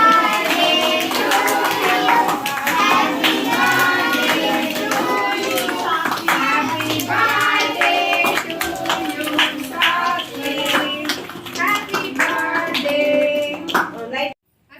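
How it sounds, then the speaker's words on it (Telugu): Hands clap at a child's birthday cake cutting, bursts of claps mixed with loud, overlapping talk and children's voices, fading out at the very end. "క్లాప్స్ కొట్టుకో, భయపడద్దు"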